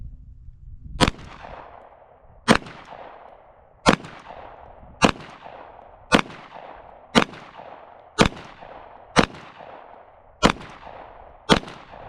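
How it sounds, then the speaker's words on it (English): A Glock 17 pistol fires PMC full metal jacket rounds at a range: ten loud, sharp shots spaced about a second apart, each followed by a short echoing decay. "So the first ammo I'm going to be shooting is some of this PMC Full Metal Jacket."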